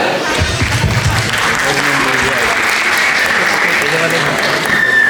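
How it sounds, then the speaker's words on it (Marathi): A live audience gives loud, sustained applause for a bharud folk performance, dense clapping filling the whole stretch without pause. "त्यांच्या या सुंदर सादरीकरणासाठी जोरदार टाळ्यांचा वर्षाव करूया"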